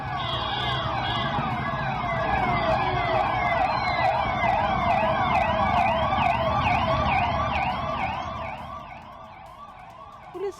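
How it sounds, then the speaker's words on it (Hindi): Police patrol siren, a loud rapid yelp wailing continuously for about eight seconds, then fading toward the end over faint road noise. "पुलिस की पेट्रोलिंग में बजने वाले सायरन से लोग डर जाते हैं।"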